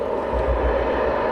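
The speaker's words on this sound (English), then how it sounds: "I can hear another jet." Eurofighter Typhoon jet passing at night near RAF Coningsby, a steady distant low roar that holds evenly throughout without a break, heard on its own with no talking.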